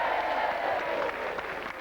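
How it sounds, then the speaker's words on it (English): Studio audience applauding in a television studio, a dense steady wash of clapping close up, fading slightly toward the end. "Applause for Yvette from down there."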